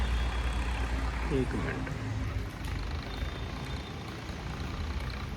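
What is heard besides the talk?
tractor driving past in the rain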